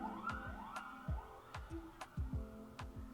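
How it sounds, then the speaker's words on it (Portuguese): An ambulance siren wails as it passes along a street, a repeating rising-and-falling electronic sweep with sharp periodic clicks, moderately distant and fairly quiet throughout. "Vamos esperar a ambulância passar."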